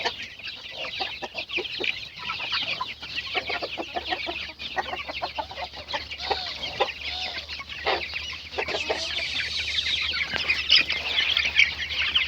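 Forty-day-old chickens cluck steadily outdoors in a busy, overlapping chorus, some calls close and others farther off, with occasional wing flaps and no talking.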